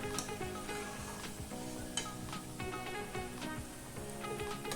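Bitter gourd pieces fry in hot oil, crisping up, with a steady, close sizzle and crackle, plus occasional stirring clinks and taps against the pan throughout.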